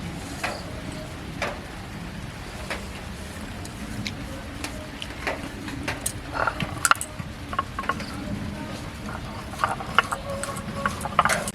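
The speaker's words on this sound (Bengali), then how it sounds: "ভাজা জিরেটাকে ভালোভাবে পিষে নিচ্ছি শিলনোড়ায়" Fried cumin ground on a stone slab with a grinding stone, giving a continuous rough scraping and rolling with small clicks and knocks, close by and moderately loud, in an outdoor village setting.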